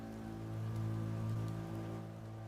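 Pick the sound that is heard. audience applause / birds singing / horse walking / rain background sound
rain background sound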